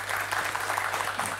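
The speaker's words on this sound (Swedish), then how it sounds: "Ja, applåd såklart" Brief, even applause from a conference audience at a Swedish panel on future municipalities, a dense patter of many hands clapping at constant loudness.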